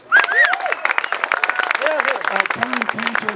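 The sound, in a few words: audience applause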